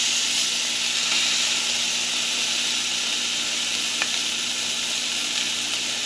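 Pork roll sizzling steadily in a frying pan after being flipped, a constant close hiss of spattering fat with a faint tap partway through.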